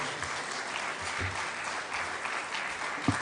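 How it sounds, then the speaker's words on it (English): A large crowd at a joint parliamentary meeting in a conference hall claps warmly for the Deputy President, a sustained, even wash of hands at moderate distance with a couple of louder thumps near the end. "A warm clap for His Excellency the Deputy President."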